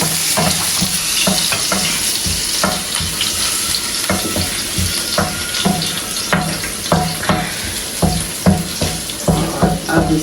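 Garlic and ginger frying in a pan for saag: a steady, close sizzle throughout, broken by frequent clicking stirs and scrapes of a spoon, with no talk.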